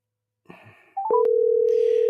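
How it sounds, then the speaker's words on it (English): A few short rising dialing beeps, then a steady, loud telephone dial tone hums on continuously, with faint background noise before it. "I actually got a dial tone"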